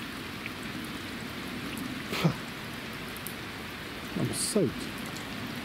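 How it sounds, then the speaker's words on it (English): Rain falls steadily outdoors during an oil change on a 16-year-old Peugeot 306 Estate, a soft continuous patter with a few brief louder knocks and scrapes; one word of speech is heard. "Oh, rain, go away."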